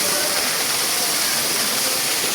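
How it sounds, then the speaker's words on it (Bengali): Water pours down a hillside waterfall at Himchhari in a steady, close, broadband rush with no break and no voices. "পাহাড়ের বুক চিরে কত সুন্দর ঝর্ণায় পানি প্রবাহিত হচ্ছে।"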